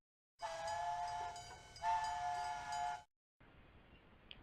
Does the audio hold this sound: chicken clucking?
no